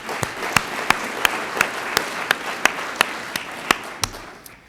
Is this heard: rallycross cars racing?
no